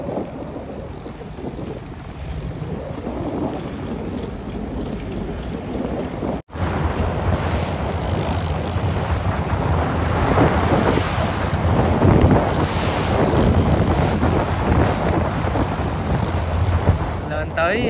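A boat motors at sea against a headwind during a fishing festival procession; steady roaring wind and engine noise fill the whole stretch with a brief dropout, and faint voices sit beneath.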